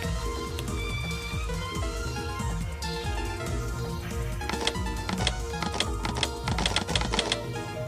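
Rain patters steadily in a video game, a dense, even hiss of droplets layered over game music and sound effects, with a busier burst of sharp taps toward the end.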